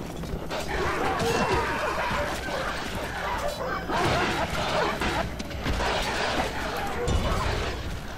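War dogs barking in the strategy game Rome Total War during a battle, sharp repeated barks and yelps amid a dense clash of combat noise, with someone talking over the top.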